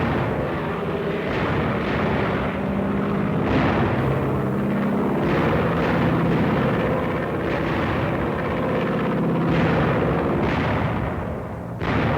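American WWII fighter planes roar across the sky in a continuous loud engine drone, with repeated swelling passes and booming bursts like gunfire or explosions mixed in.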